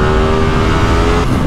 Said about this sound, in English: this engine, if you want to explore the upper reaches, which you will want to, because it sounds like this